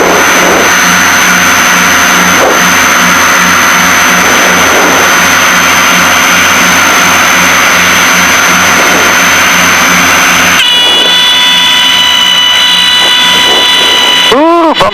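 Twin engines of a Piper Seneca aircraft drone steadily throughout with a dense, loud propeller hum, shifting pitch near the end as power changes on approach, with a brief rising whine at the very end.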